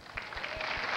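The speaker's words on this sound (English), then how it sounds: "Yeah, it deserves some applause" Studio audience applause at a 1990 jukebox-themed television show, a steady wash of clapping that swells slightly and holds throughout the brief moment.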